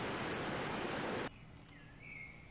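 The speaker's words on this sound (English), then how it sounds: "Waterfall." A waterfall in the zoo-building video game Wildlife Park 3 gives a dense, even rush of falling water that stops abruptly partway through. Faint tonal game sounds remain afterward.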